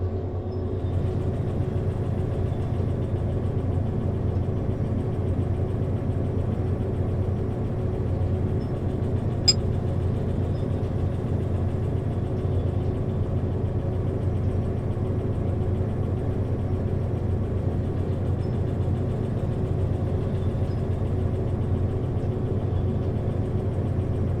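A locomotive engine in the video game Derail Valley runs at a steady low rumble, close and continuous, holding the same drone from start to finish with no talking.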